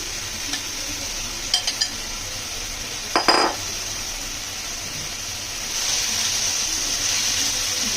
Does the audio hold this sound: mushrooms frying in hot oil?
yes